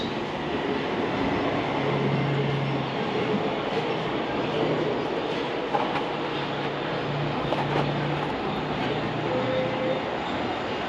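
A London Underground Northern Line train arrives at Colindale station, a steady broadband rumble of wheels and motors with low hums, close and loud throughout with no talk.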